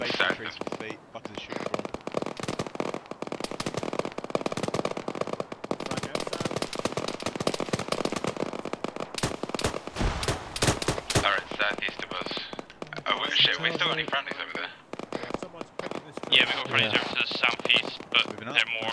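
Dense gunfire in the military game ArmA 3, with rapid cracking shots and automatic bursts that sound both near and distant, going on almost without a break. Voices talk over the shooting.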